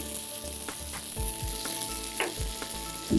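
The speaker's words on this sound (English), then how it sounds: "Back to tossing it. So nicely stir it through." Spaghetti with meatballs, parsley, salt and pepper is tossed and stirred in a hot pan, with a steady sizzle broken by a series of rhythmic thumping tosses.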